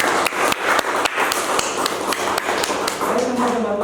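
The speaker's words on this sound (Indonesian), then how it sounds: "Berikan tepukan yang meriah." Wedding guests applauding the bride and groom at a marriage registration ceremony, a dense run of close, sharp claps with a voice briefly audible over them.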